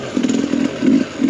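A 2022 Sherco 300SE two-stroke dirt bike revs on mountain single track, its buzzing engine pulsing in quick throttle bursts, close and loud over a very short stretch.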